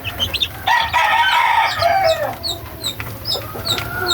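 Young chicks peep in bright, rapid chirps alongside clucking hens, a busy continuous chorus close by with a rooster-like call mixed in.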